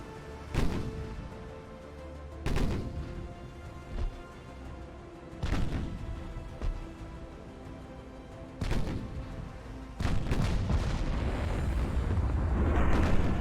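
Heavy battleship guns fire in a 1930s naval battle in Ultimate Admiral Dreadnoughts, with about six loud, booming shots spaced a few seconds apart over a low rumbling background, ending in a longer sustained roar.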